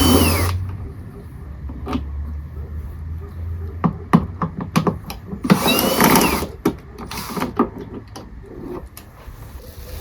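Power drill working on the screws of a car trunk lid, with several short whirring bursts and clicks near the mic amid handling noises, with one louder sustained run of the drill midway.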